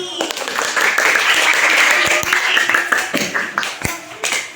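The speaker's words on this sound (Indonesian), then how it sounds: "tepuk tangan untuk kelompok melati" Classroom applause for a student group during a teacher-training session: many hands clapping loudly and steadily, then thinning into scattered separate claps toward the end, with some voices in the background.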